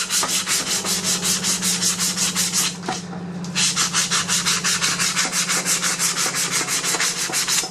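Steady hand sanding of a hatchet edge with 240 grit abrasive, loud rhythmic rasping strokes repeating at a quick even pace, with a brief pause midway before the strokes resume.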